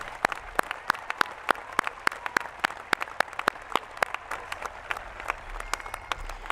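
Applause at a high school commencement ceremony as cum laude graduates stand, heard as a fairly sparse, faint crowd clapping with distinct sharp individual claps ringing out steadily in a large hall.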